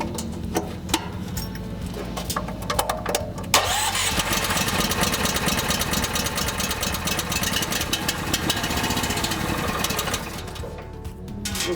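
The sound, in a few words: Grout Hog engine starting up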